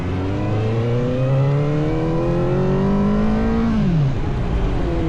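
A CFmoto 500SR motorcycle accelerates on a long straight, its engine note climbing steadily in pitch through the revs, then dropping sharply as the throttle closes near the end.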